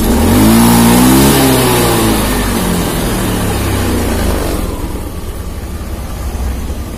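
A car engine revs hard as the throttle is pressed during a fuel pump pressure check, a loud close rising roar that peaks early, then holds at a lower steady drone before easing back toward idle.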